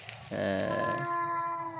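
Cat vocalizing during a fight, a loud, drawn-out yowling caterwaul that swells in and then wavers steadily, close and alone with no talk.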